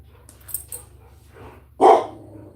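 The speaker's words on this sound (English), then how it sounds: "The neighbor dogs are barking." Neighbor dogs bark from a distance, a couple of faint yips followed by one louder bark, over a low steady hum.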